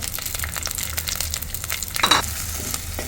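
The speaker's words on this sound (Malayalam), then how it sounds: "ഇനി ഇട്ട ചേരുവകളെല്ലാം കൂടി നന്നായിട്ടൊന്ന് വഴറ്റി കൊടുക്കണം." Ginger and chopped green chillies sizzle and fry in a pan as they are stirred, a steady close crackle with a brief louder scrape of stirring partway through.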